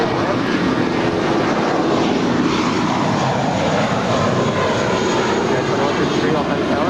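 Airliner departing runway 25 left at Los Angeles LAX airport, a loud, steady engine roar that fills the whole clip without easing, heard close and continuous.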